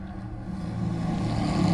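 Vintage race cars, a 1929 Ford Model A leading a 1933 Ford Indy Special on a road course, drone past with a steady low engine rumble that swells slightly louder as they approach, with no talk over it.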